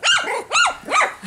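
A dog gives three loud, close barks in quick succession, each harsh and rasping with a growling edge, followed by a short low grumble at the end.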